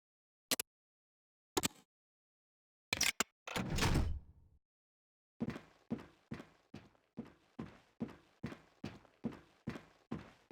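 In the Fallout Tactics game, a door opens to a training station with a thunk and a sliding rumble, after a few sharp clicks, followed by a steady series of evenly spaced footstep-like thuds.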